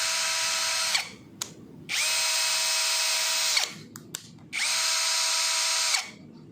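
NRT pro DC743 cordless brushless impact drill running free in three steady bursts, each a loud high motor whine that starts and stops cleanly, with brief clicks of switching between them.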